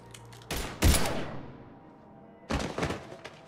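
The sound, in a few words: gunfire in the video game Mass Effect 3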